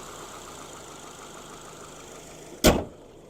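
A 2023 Subaru Outback Onyx Edition's 2.5 liter boxer engine idles in a steady, low, even hum heard close, cut near the end by a single sharp thump.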